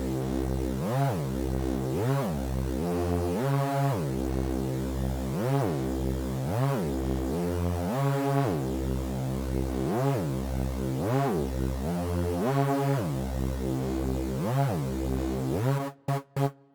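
Quirky synth lead plays a bouncy, repeating melody of gliding, pitch-bending notes over a steady bed of sustained tones, with a few choppy stutters cutting in at the very end.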